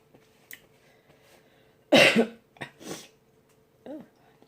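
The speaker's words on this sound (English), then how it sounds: "Still trying to get rid of this damn cough from this cold I had." A sharp, loud cough from a lingering cold bursts out, followed by a couple of smaller coughs and a brief throat sound in an otherwise quiet room.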